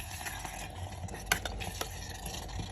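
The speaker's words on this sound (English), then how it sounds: "so I'm going to stir it as I go" A spoon scrapes and stirs through thick curry in a pot on an electric Jetboil, with soft clinks against the metal and a faint sizzle underneath.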